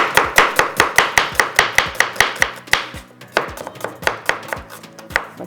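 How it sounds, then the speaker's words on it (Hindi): Onions being chopped with a knife on a board in a home kitchen while mutton biryani is prepared, a steady fast run of about twenty sharp close taps with a brief pause and faint background hum, no talking. "इतनी देर में हमारी प्याज कटिंग हो जाएगी।"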